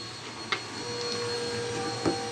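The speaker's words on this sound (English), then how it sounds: "ignore the vacuum" A vacuum cleaner drones steadily in the background of a tabletop role-playing session indoors, a constant whine with a couple of faint knocks and no voices over it.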